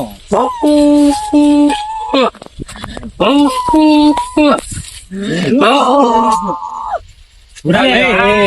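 A person imitates a dog's barking with a series of voiced, yelping bark-like calls in short bursts, close and loud, with brief pauses between.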